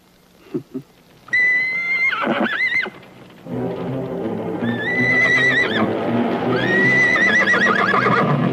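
Horses in an old Western setting whinny loudly several times in shrill, rising calls, over steady clip-clopping hooves and brief thuds at the start.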